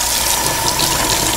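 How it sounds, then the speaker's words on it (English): Tap water runs steadily over cucumber spears and chips being rinsed in a kitchen sink, a continuous close splashing gush with no talking. "Let me wash these off."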